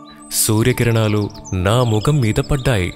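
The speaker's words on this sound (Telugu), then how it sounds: "తెల్లవారిపోయింది. పక్షులు చిలకల అరుపులు," Birds and parrots call at dawn in a Telugu children's animation, with light chirps scattered beneath a narrating voice that dominates throughout.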